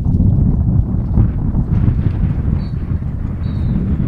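Strong wind buffets and roars across the microphone in continuous gusts at an outdoor soccer match, loud and rumbling throughout.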